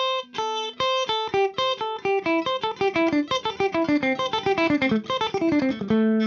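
Guitar playing an odd note grouping exercise, a rapid, even stream of plucked single notes that climbs and then descends through the run before ending on a held low note.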